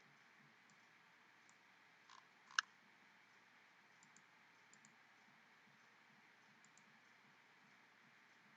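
A computer mouse clicks during domain controller setup: a few soft, scattered clicks and one sharp, distinct click stand out against a quiet background hum.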